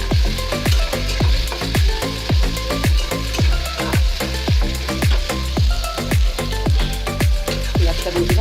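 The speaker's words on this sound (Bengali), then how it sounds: "পেঁয়াজটা দিয়ে দিলাম।" Onion frying in a pan on the stove, a loud close sizzle with a rhythmic repeated scraping of stirring running steadily throughout.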